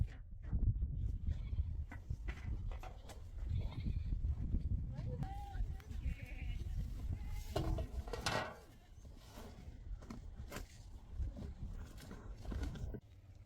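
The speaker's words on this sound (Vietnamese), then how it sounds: "đang gọi đàn dê trong nhà" A herd of goats being called home at dusk at a nomadic Iranian family's camp, scattered bleats mixed with rustling and movement, while people talk and call over the animals.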